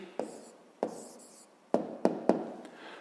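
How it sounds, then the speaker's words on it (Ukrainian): A pen writes an answer on paper in five short scratching strokes, spaced unevenly, the last three coming in quicker succession, close and quiet. "Ну що ж, записуємо відповідь"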